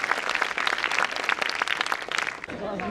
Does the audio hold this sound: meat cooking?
no